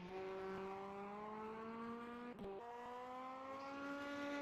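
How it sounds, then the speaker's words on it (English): GTE race cars lapping a circuit, a loud sustained engine drone with rising pitch as they accelerate, broken by a brief gear shift midway before climbing again. "It's ridiculous that those GTEs are so loud."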